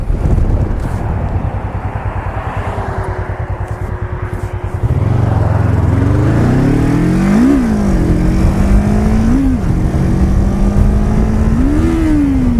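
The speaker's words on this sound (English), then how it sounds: "That throttle is sticky." A motorcycle with a sticky throttle idles roughly, then revs in several loud, close bursts whose pitch climbs and falls back slowly between blips.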